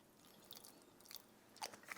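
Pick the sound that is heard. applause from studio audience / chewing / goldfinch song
chewing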